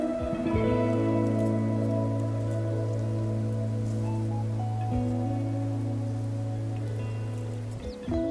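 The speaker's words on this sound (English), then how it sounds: "Unfortunately, it is a little bit cloudy and it is raining right now." Steady rain falls during a hike to Key Summit in New Zealand. The hiss runs continuously throughout beneath a loud, sustained low droning hum, and no one speaks.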